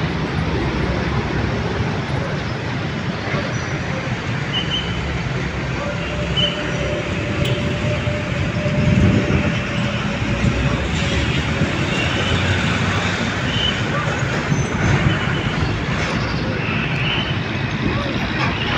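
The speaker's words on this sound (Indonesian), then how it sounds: "ini ada Kalingga Jaya berbodi Jet Boost 5 ya, Kudus Jepara Jakarta." A Kalingga Jaya coach with a Jetbus 5 body, running Kudus–Jepara–Jakarta, passes on a road bend in Cikarang Barat, a loud, steady, broad engine-and-tyre roar that holds without a break and with no voices.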